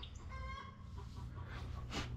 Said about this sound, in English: Chickens are going crazy over there.